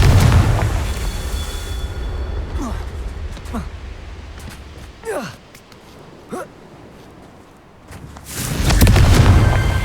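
Confringo explosive spell from Hogwarts Legacy: a loud rumbling blast opens, sharp swooshing casts and pops follow in the middle, and a second heavy boom closes, all over steady game ambience.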